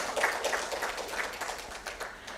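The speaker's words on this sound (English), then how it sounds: "A big round of applause for her." An audience at a memorial oration gives a round of applause, a steady patter of many hands clapping together, heard somewhat faint and distant throughout.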